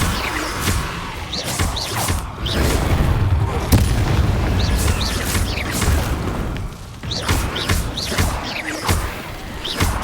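Spell blasts from Confringo and Bombarda in Hogwarts Legacy burst out in a loud, repeated run of booms and crashes, with sharp cracks between heavy impacts across the whole stretch.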